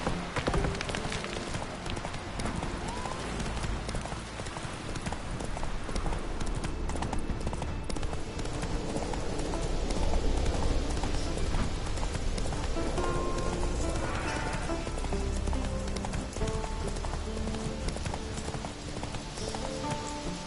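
Horse hooves clip-clop at a steady galloping run through Skellige in The Witcher 3, a continuous rhythmic pounding layered with game ambience and occasional whinnies, loud and close throughout.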